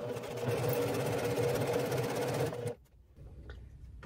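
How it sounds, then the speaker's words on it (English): Home sewing machine stitching bandana quilt pieces, a fast steady mechanical whir for under three seconds, then it stops abruptly into quiet room tone. "I'm going to sew right down."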